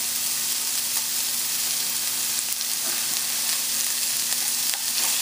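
Onion and chillies sizzle in a pan during stir-frying, giving a steady, loud hiss with occasional clinks from stirring, and no voices.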